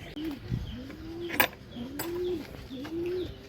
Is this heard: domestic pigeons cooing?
yes